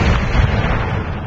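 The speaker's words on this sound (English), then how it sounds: "Activate this cannon." A cannon fires in a video game, a heavy booming blast that fills the short clip with dense low rumble and no pause.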